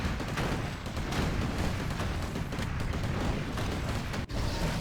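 Massed rifleman gunfire in a Warcraft III match, a dense continuous crackle of rapid shots and impacts at steady moderate loudness with one brief dip near the end.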